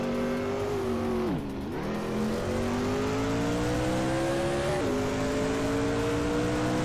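1980s NASCAR race cars, among them a 1982 Pontiac Grand Prix, roar around a track in a racing video game, engines droning steadily, with one dip and recovery in pitch as a car shifts and accelerates.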